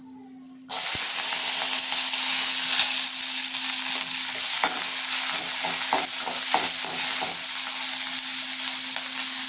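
Mustard seeds, fenugreek, shallots, green chilies and curry leaves hit hot oil for a wedding-style okra pachadi, bursting into a loud, continuous sizzle with scattered crackles and pops after a brief quiet start.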